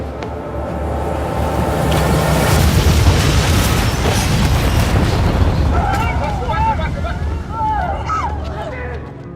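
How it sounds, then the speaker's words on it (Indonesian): A car bomb detonates in a video game set on the streets of Rio, giving a loud, sustained booming roar with rumbling debris and crackle that slowly fades over several seconds, with no talking. "sebuah bom mobil meledak"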